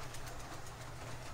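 A 12-volt LEGO train runs along its track, giving a steady, close whirring motor rumble with faint rhythmic clatter, continuous and without speech.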